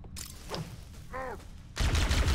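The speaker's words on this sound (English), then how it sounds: "Oh, that's a regular grenade" A grenade going off in Halo: Combat Evolved, a sudden loud burst of roaring noise cutting in after quieter game sounds and a brief tonal effect, sustained to the end.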